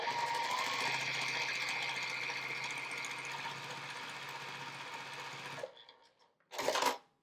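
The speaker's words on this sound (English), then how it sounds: "we need to lay this one down and sew all the way across there" A sewing machine stitches a quilt triangle onto a border for a watermelon wall hanging, a close steady mechanical whir running about five and a half seconds, then stopping, followed by a short second burst.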